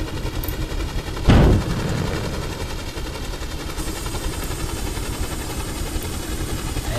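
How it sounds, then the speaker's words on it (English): A modern warship in the game Stormworks fires its weapons at another ship: one loud, sharp blast stands out over a constant heavy engine rumble and hum that carries on throughout. "Let's fire on the other ship."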